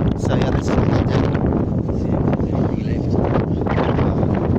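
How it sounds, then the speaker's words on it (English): Strong wind buffeting the microphone on a gusty day at an abandoned horse racecourse, a loud continuous roar with rumbling surges lasting throughout. "It's a windy day."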